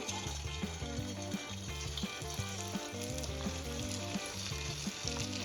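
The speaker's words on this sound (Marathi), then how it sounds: "चिकन कबाब तळण्यासाठी आपलं ऑइल पण छान गरम झालं" Steady sizzling of chicken kebabs frying in hot oil, a constant crackling hiss throughout, with a rhythmic tune playing underneath.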